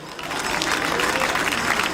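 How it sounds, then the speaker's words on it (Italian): A burst of applause from a festival crowd in Quartu Sant'Elena, Sardinia, dense and steady clapping that swells quickly and holds. "Un applauso per Fonni"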